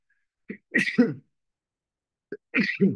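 Two sharp sneezes close by, separated by a couple of seconds of silence, each with a short intake before the burst.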